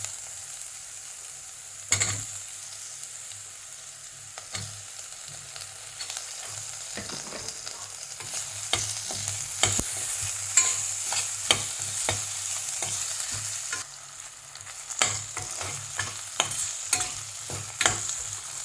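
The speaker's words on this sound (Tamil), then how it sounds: "இப்போ உருளைக்கிழங்கு போடுறேன்." Potatoes for a capsicum potato masala fry in a pan with a continuous sizzle, punctuated by irregular scrapes and knocks of stirring, close up and without voices.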